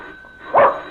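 A dog gives a single short bark, fairly close and loud, over quiet room tone.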